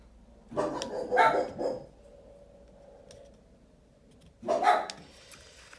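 Dogs barking at something outside on the street, two short bursts of several barks separated by a quiet pause, moderately close.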